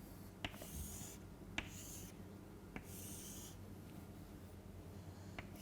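Pen or marker drawing a MOSFET diagram by hand, a steady faint scratchy rubbing with a few sharp taps as strokes start, continuous and close with no talking.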